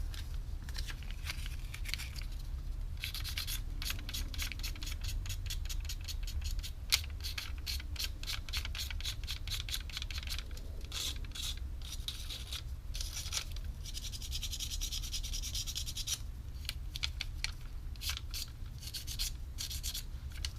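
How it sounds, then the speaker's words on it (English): Sandpaper scuffs the top faces of adhesive car emblem letters before rhinestones go on with two-part epoxy, producing continuous rapid back-and-forth rubbing strokes, close and steady throughout with brief pauses. "You only want to get the top plane of the letters scuffed up."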